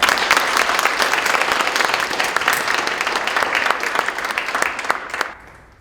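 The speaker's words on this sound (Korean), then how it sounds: "큰 박수로 환영해 주시기 바랍니다." Loud, close applause welcomes a lecturer at an economics study talk, a dense crowd clapping that holds strongly and then tapers off quickly near the end.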